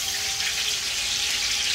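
Onions fry in oil in a cooking pot for a wedding-style meat khichuri, making a constant close crackling sizzle with no voices over it.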